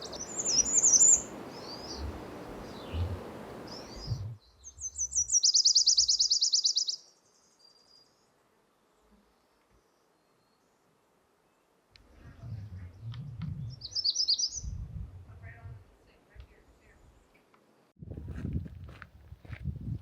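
Tennessee and bay-breasted warblers singing along a forest trail in Canada, with bursts of high thin song between stretches of quiet and the sound of footsteps nearby.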